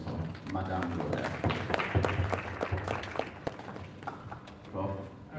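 An audience at an HPV health forum during a university health week celebration gives a round of clapping, fairly faint and scattered, mixed with a speaker's voice talking over it.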